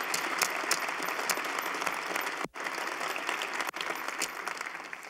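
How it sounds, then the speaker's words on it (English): Audience applause for a student video gold medal award at a business school event, dense and continuous clapping from a room full of people, with two brief dropouts. "Let's give them another round of applause for this gold medal award."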